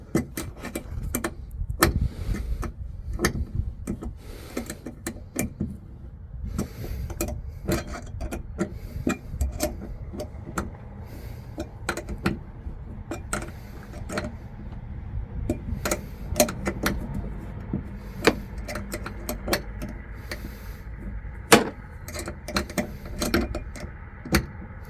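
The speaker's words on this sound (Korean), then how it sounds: "다시 한번 전체를 조여줍니다." Socket tool tightening seat bracket bolts on a Bongo 3 double cab, rapid dry clicking and ratcheting taps repeating steadily up close for a long stretch, with occasional rubbing and knocks.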